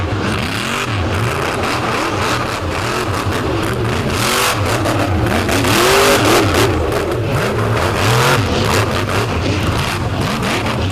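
Loud engine of a trike revving hard at an Indy monster truck jamboree, a continuous roaring drone with rising and falling pitch sweeps and crowd-like wash, steady and close throughout.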